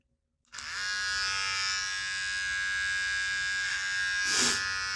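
An electric trimmer switches on abruptly and buzzes steadily and close for several seconds while trimming a mustache, with a brief change in tone near the end as it presses against the hair.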